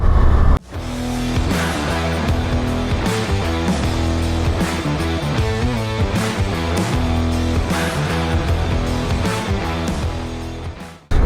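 A 2024 Suzuki V-Strom 800 RE motorcycle is ridden on a cold, windy road, its engine droning loud and steady close up with shifting tones, ending abruptly.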